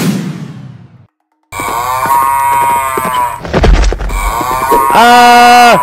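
A cow gone suddenly wild bellows and bleats loudly in repeated drawn-out calls, with a brief silence, a thumping low crash midway, and a final long strained cry close by.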